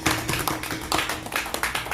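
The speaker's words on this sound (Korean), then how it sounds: "하나님 앞에 기쁨으로 여러분들을 박수를 쳐드리겠습니다." Church congregation claps together during a sermon, a quick string of sharp, fairly even hand claps that sound somewhat distant in the room.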